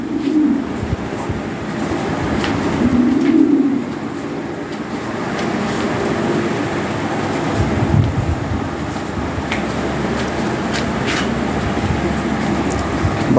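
Lahore Siraji pigeons coo softly in a low, murmuring chorus against a steady background rumble, with a louder burst of cooing early on.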